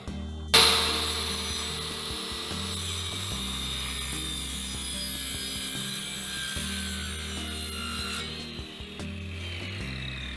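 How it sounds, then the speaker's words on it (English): Wooden fascia plates cut with a power saw while building a tiny house off grid, with a sustained whining, grinding cut that begins sharply and continues steadily, no talk. "I'm gonna get started cutting the fascia plates"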